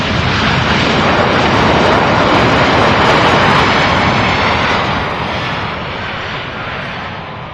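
American Airlines airliner arriving from Dallas-Fort Worth at Louisville International Airport: a loud, close, broadband jet roar that holds steady and then fades gradually over the last few seconds.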